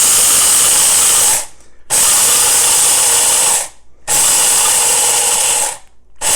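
An electric herb grinder whirs loudly through toasted milk thistle seeds in three sustained bursts, each separated by a short silent gap.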